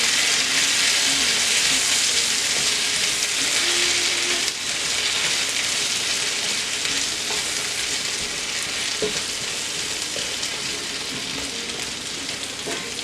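Home fries of potato chunks with sausage and onions, seasoned with parsley, paprika and crushed red pepper, sizzle in a cast iron skillet with a steady, dense crackle that holds evenly throughout, no voices over it.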